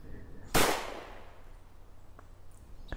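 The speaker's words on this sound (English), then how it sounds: "there are actually some real gunshots" A single sharp gunshot cracks out in the DayZ video game and trails off in a decaying echo over a quiet background, with a couple of faint clicks afterward.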